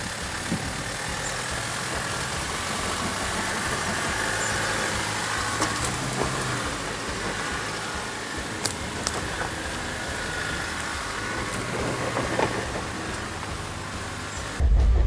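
A Toyota Prado on crawl control edges slowly up a hill in low-speed off-road driving, giving a steady, moderate engine and drivetrain drone with occasional clicks and knocks, and no talk.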